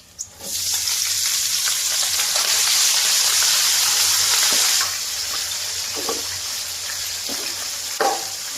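Chopped onion and green chilli pieces fry in a pan for a gongura dry fish curry, a steady loud sizzle with a few stirring knocks, easing slightly halfway through.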